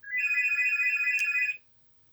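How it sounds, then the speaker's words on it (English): A phone ringtone, a single electronic ringing burst lasting about a second and a half, clear and fairly close before cutting off into quiet. "Sorry about the phone."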